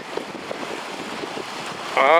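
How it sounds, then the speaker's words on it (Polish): A coaches' motorboat runs on the water near a sailing regatta at Puck, its engine a low, rushing drone under heavy wind buffeting, with a louder tonal whine rising at the end. "tutaj asystuje motorówka no bo tutaj trenerzy pływają na motorówkach"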